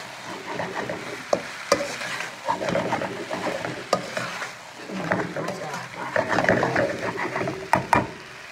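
Beef and broccoli are pushed around a hot pan, with scraping and clattering stirs over a low sizzle, some sharp knocks, and a voice talking intermittently over it.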